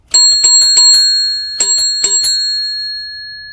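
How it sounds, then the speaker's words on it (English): The bell on a Mango velomobile is dinged in two quick bursts, four rapid bright metallic rings followed by three more, each ringing on with a long clear tone, close and loud with no talk. "for me to be able to ding the bell"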